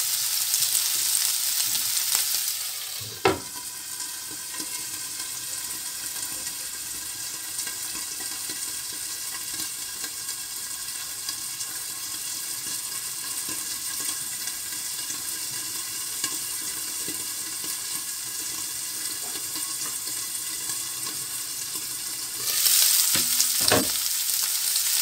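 Albanian-style liver sizzling and being stirred in a very hot pan, a steady loud frying hiss with a couple of sharp spatula scrapes near the start and end.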